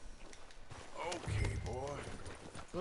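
Horse hooves clop along at a walking pace in Red Dead Redemption 2 while a voice talks over them, fairly quiet overall.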